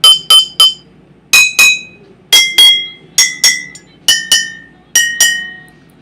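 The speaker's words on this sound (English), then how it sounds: "the bottle with the largest amount of liquid have the lowest pitch throughout, and the one with the lowest amount of liquid have the larger amount of pitch" Glass bottles holding different amounts of liquid are struck one after another, giving bright, ringing clinks of varying pitch in quick pairs and threes, each with a short decaying tone, close and loud, with no talking.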